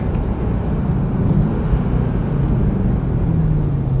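Mercedes-AMG E63S biturbo sedan, tuned past 800 hp, rolling on from about 80 mph, heard as a steady, loud low engine drone with a slowly rising note and heavy road and wind roar, with no talking.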